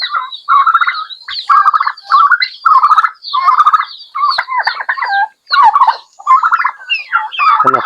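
Mother hen fussing near straw bedding on a small farm, a busy run of repeated clucks and chattering calls in close, loud bursts with short gaps, no talk over it.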